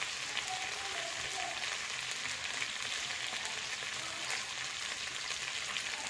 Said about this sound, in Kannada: ಬೆಳ್ಳುಳ್ಳಿ ಚೂರು ಫ್ರೈ ಆಗೋದು